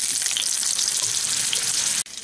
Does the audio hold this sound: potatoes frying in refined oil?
yes